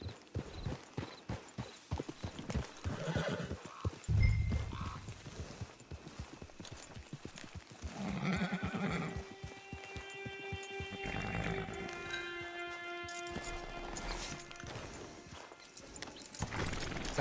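Steady clopping of horse hooves walking in Red Dead Online, close and rhythmic, with a short horse snort or neigh and some faint background voices.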